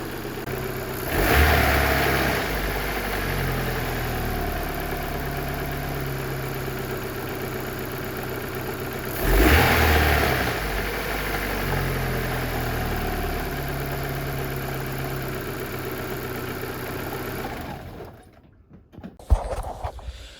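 A Daewoo Lanos car engine runs steadily, a dull medium-pitched hum with two brief revs, then it fades and gives way to clunks and handling noises at the end.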